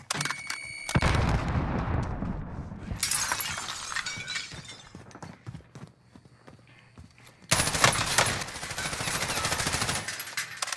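Video game Warzone combat: a loud grenade blast with shattering debris opens, then bursts of automatic gunfire crackle, fade, and return in a heavy barrage.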